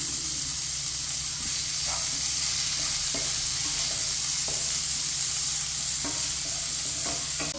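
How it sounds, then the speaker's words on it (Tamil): Onion and dried red chilies sautéing in a pan for a simple home lunch, a steady close sizzle and hiss with occasional light stirring scrapes throughout, no talking. "நல்ல பெரிய வெங்காயமாக ஒரு வெங்காயம், இதையும் போட்டு இப்போ வதக்கலாம்"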